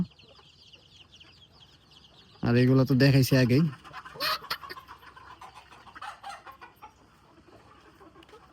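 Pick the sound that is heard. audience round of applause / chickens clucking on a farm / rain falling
chickens clucking on a farm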